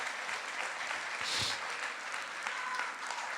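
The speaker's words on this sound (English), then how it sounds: "Let's give them a round of applause." A spring varsity athletic awards audience gives a round of applause, a steady, fairly distant wash of many hands clapping throughout, with a brief louder thump in the middle.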